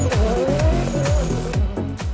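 Drift cars at OIDC 2024 Round 2 run in tandem with a continuous loud tire squeal over roaring, rising engines, close and sustained with no talk.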